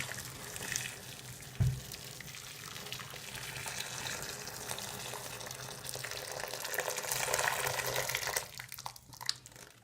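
Hot boiling water is poured around a matted wig in a container, a continuous hissing splash with one brief thump near the start and a clatter at the end, moderately loud and without talk.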